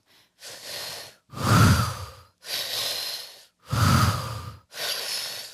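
During guided breathing, slow, audible breaths follow one another close to the microphone: five long breath sounds in a steady rhythm, with the heavier exhales alternating with lighter breaths and no talking.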